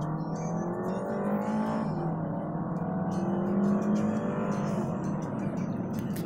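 A Chevelle accelerates hard down a flat, straight road, its engine note climbing steadily in a loud, continuous roar with rising harmonics and a brief shift partway through.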